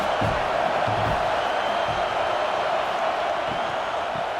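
Stadium crowd noise during a College Football 26 game between Clemson and Michigan, a steady dense roar of cheering that holds through the whole stretch at even loudness with no breaks.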